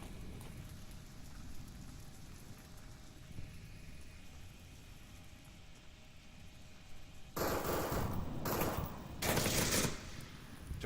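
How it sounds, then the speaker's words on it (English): Gunfire in the Onward VR tactical shooter erupts late in a competitive match: after a long quiet stretch, loud rattling bursts of rapid shots break out in several close, dense volleys. "Shots go out"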